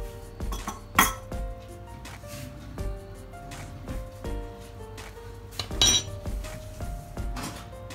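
A spoon clinks against a dish while pressing and shaping cake dough, making scattered light taps and scrapes with a few sharper knocks.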